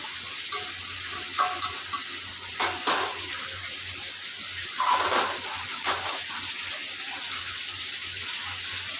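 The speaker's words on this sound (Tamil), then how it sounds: "எடுத்து வச்சுருக்க கசகசாவை இதிலே இப்போ போட்டுக்கலாம் இந்த எண்ணெயிலே பொருந்துடும் கசகசம்" Poppy seeds frying in hot oil for a chicken curry, a steady sizzle with occasional stirring scrapes and light clinks from a pan.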